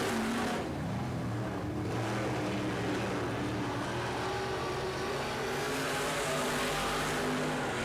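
Race cars at a dirt or short-track heat race roar loudly and continuously, engines droning and revving as they pass, with broad track noise throughout.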